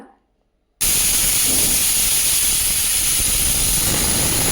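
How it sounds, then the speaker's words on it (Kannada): After a moment of near silence, a loud, constant steam hiss bursts out and keeps on, the sharp, steady rush of a pressure cooker whistle venting while cooking tamarind-leaf sambar. "2 ವಿಸಿಲ್ ಬಂತು"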